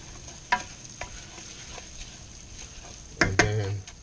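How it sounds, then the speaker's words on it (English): Rice stirred through hot oil in a frying pan, a soft steady sizzle broken by a few sharp spoon taps and a louder scraping clatter near the end, close by. "And then you want to stir that rice up."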